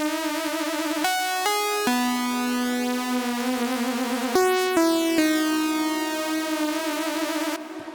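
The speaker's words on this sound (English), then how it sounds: "It's a real chiptune-y kind of synth, but it pairs well with a really sharp attack with this lead right here that has a vibrato setting on it." Chiptune-style synth lead from Native Instruments Massive, bright and buzzy with a sharp attack, playing stepped melodic notes with a wobbling vibrato on the held tones, heard clearly with no voices.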